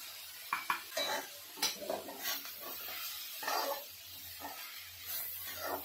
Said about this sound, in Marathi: कोथिंबीर आहे ना छान मिक्स करून घ्यायची।